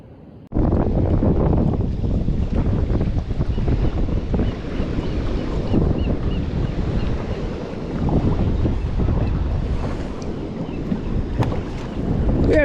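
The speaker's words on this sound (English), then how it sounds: "the waves aren't backing, the swell's not backing down" Ocean waves and swell off Sunset Beach, Oregon, heard from a kayak at sea: a constant rolling wash of water under heavy wind buffeting the microphone, with no talking.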